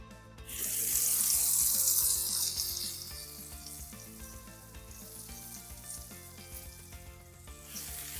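Mahi-mahi fillets hitting a hot cast iron flat top slicked with grapeseed oil, a loud burst of bright sizzling that fades to a steady, softer crackle over background music.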